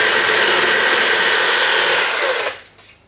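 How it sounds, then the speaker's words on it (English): A bike shifter cable is cut through in one loud, harsh, continuous rasping burst up close that lasts about two and a half seconds, then stops abruptly into near silence. "Shifter cable. Let's cut through that."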